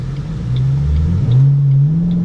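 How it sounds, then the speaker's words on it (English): A Ford Mustang GT pulls out onto a snowy road, its engine droning loudly up through a rising rev from inside the car, steady and close for a couple of seconds. "Like right now, I just pulled out, and you get no traction"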